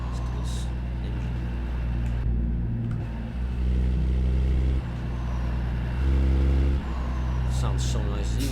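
A heavy truck engine in a video game hums and rumbles steadily, swelling in pitch as it revs up and eases off.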